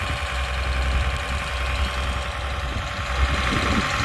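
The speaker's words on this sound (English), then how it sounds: "big Caterpillar engine." A big Caterpillar engine idles on a custom-built hydraulic boom machine with a John Deere cab, a steady mid-pitched rumble with a faint knocking texture, heard up close and continuous throughout.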